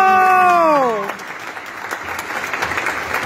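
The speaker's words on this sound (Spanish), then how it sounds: "un aplauso. ¡Bravo!" Applause and cheering break out from the audience at a youth council recognition gala, a dense steady clatter of clapping that follows a sung or sustained voice fading out in the first second.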